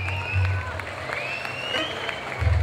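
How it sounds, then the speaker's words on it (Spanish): Crowd applause at a town fair dance in Tehuitzingo, Puebla, a thin wash of clapping under a loud announcer's voice, with bursts of bass from a band's sound system at start and end. "Fuerte el aplauso."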